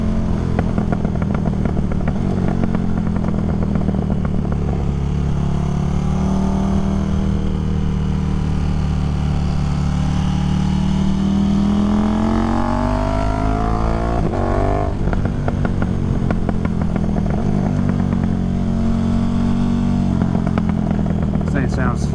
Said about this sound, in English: I think this Dominator exhaust really does sound pretty good.